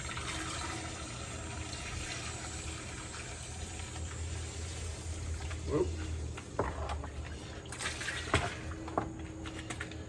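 Water-contaminated fuel pours and trickles from the removed fuel tank of a 1996 Arctic Cat EXT 580 EFI snowmobile. The flow is faint and continuous, with a few louder splashes and gurgles, and someone talks at times over it.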